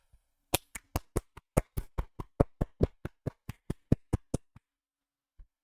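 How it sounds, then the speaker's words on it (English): A streamer claps his hands in a fast, steady run of about twenty crisp, close claps, then stops. The room goes quiet apart from one faint soft thump near the end. "I was just clapping"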